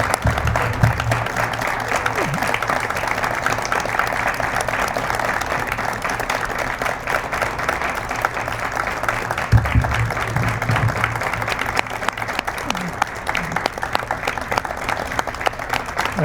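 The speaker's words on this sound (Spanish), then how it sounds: "darle un aplauso al maestro" Sustained audience applause for a maestro at the close of an art-week talk, steady crowded clapping throughout, with a few low voices and brief knocks beneath it.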